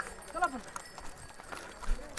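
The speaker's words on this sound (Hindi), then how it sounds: "बड़े चलो ये घोड़े भाई" Horses on the snowy mountain trail from Chandanwari toward Panchtarni on the Amarnath pilgrimage clop along at a walk, a few faint hoof knocks under outdoor ambience and distant voices.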